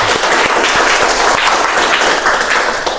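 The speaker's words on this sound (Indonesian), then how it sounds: "Tepuk tangan untuk Mbak Maulida." Loud applause from an audience at a university lecture session, a steady thick wash of clapping lasting the whole stretch with a few sharper claps standing out near the microphone.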